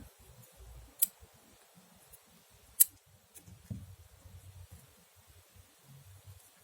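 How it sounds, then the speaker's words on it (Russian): Small scissors snip crochet thread in a few quiet, sharp clicks spaced a couple of seconds apart, close up against faint handling rustle. "Теперь нить обрезаю."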